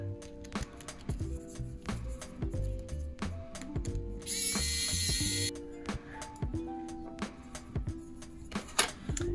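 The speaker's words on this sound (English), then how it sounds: "So just take these two screws off." Two screws are backed out of an XT60 connector on a Pavo30 PRO 6S cinewhoop drone with a ratcheting driver, giving close, quiet clicking in repeated runs, with a short burst of hiss midway.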